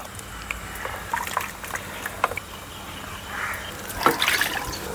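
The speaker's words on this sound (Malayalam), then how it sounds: "ഈ അരപ്പ് കലക്കിയിട്ട് ഒഴിക്കാം." Ground spice paste mixed with water is poured into a pan for an okra curry: wet trickling and splashing runs under a faint background hum and swells into a louder burst of liquid near the end.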